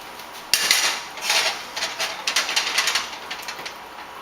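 Fennel and shallots tossed in hot butter in a pan give a burst of clattering metal and utensil knocks, then a run of lighter irregular scrapes and clinks, close up with no talk.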